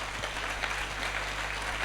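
A church congregation claps in dense, steady applause throughout a short stretch, with a low hum beneath.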